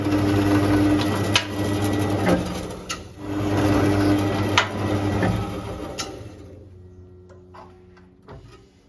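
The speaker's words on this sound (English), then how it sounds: "off to the bandsaw." A bandsaw cuts through metal stock for a machined replacement part, a steady droning whine with a rhythmic ticking that runs loud for about six seconds, then winds down and fades near the end.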